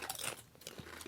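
Quiet, close crunching and chewing of a snack by someone eating near a microphone, with a few crisp bites in a short burst.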